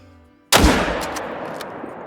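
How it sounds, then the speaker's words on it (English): A 30-06 rifle shot at a red deer in Call of the Wild cracks sharply out of near silence, one loud report followed by a long echoing tail. "let's see if we can't take a perfect 320 yard shot with the 30-06"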